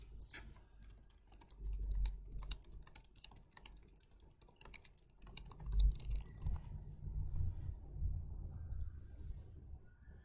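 Computer keyboard typing while an email reply is written, a steady close patter of key clicks in bursts with a short pause midway, no talking.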